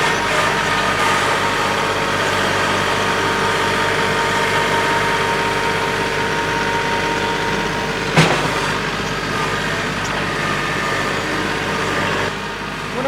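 A tractor engine idles and runs steadily while its loader bucket moves dirt onto a trailer. The drone is continuous and fairly loud, with a brief clank partway through and no talking.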